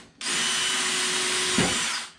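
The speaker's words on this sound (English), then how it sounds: "Now you note how I line that drill up with the hole in my table saw" A power drill whirs up and runs steadily for about two seconds, close by, with a brief bite as the bit cuts into a wooden door panel before spinning down.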